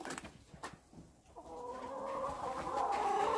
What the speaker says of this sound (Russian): Потому что здесь петух, который дерется.